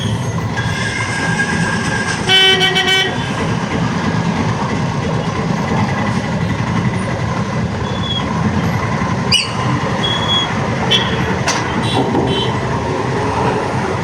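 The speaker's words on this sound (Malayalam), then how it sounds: "വെറുതെ ഹോണടിക്കാം." A vehicle horn honks briefly near a railway track where vehicles are queued, over a continuous loud rumble of a passing train with clattering wheels and faint squeals.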